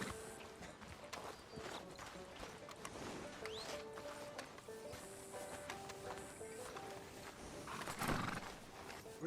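Horse hooves clip-clop in Red Dead Redemption 2 as a horse neighs and whinnies, with busy game ambience and a louder burst near the end.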